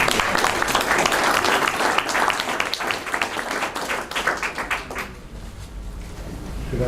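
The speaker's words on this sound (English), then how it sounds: "We'll give you a round of applause." Audience applause at a public working group meeting, a dense wash of clapping that holds steady for about five seconds and then drops away quickly into quiet room tone.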